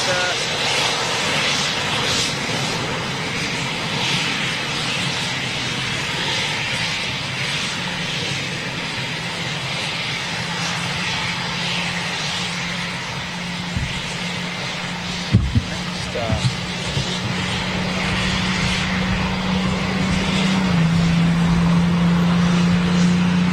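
Eurofighter Typhoon jets at RAF Coningsby give a steady, broad engine roar that holds for the full span and swells slightly louder toward the end, with a few sharp knocks midway.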